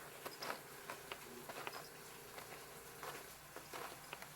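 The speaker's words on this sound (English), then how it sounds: "They got a water leak off their deck." Water leaking and dripping off a snow-covered house deck during a big snowstorm, faint irregular drips and patters at a distance.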